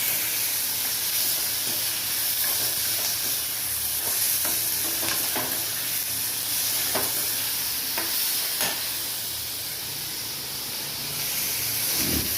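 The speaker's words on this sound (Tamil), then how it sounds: "அதுக்கப்புறம் இந்த புதினா கொத்தமல்லி எல்லாத்தையுமே சும்மா ரெண்டு வதக்கு வதக்கினா போதும்" Green chilies, tomato, ginger and garlic sauté in a pan with a constant dense sizzle and hiss, punctuated by a few stirring scrapes, close and steady, with no speech.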